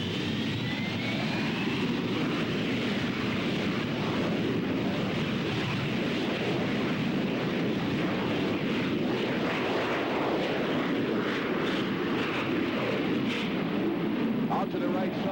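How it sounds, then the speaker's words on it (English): A Harrier jet aircraft roars loudly and continuously during a high-speed airshow pass, a dense rushing engine noise with no pauses and no talking over it. "The aircraft turn around and come in for a high-speed pass to demonstrate its turn capability"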